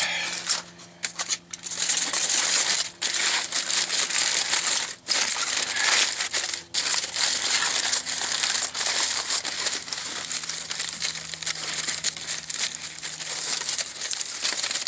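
Aluminum foil is folded and crumpled into a cooking packet for Spam hash browns and eggs: close, crisp crinkling and crushing in irregular bursts, with brief pauses between handfuls.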